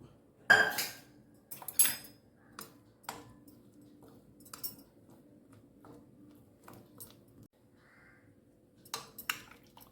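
A spoon mixes vinegar and beef gravy in a pan for beef dry fry, producing a few sharp clinks and scrapes against the metal separated by quiet pauses.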